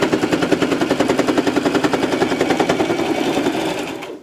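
A sewing machine stitches trim onto a karate uniform, a loud, close, rapid mechanical chatter that runs evenly for a few seconds before stopping abruptly.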